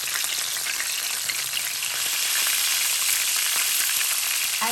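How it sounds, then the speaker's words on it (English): Fish frying in a pot on a stove set to medium-high for brown stew fish, a loud, dense, continuous sizzle and crackle up close, with no talking. "I fried it for 3 minutes on one side before I flipped it over"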